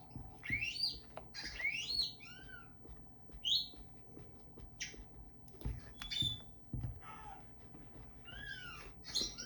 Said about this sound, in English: the parrots want to join into this